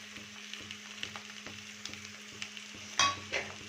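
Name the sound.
stirring grated ginger and green chilli into potatoes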